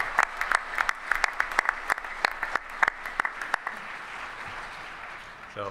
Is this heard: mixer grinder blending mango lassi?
no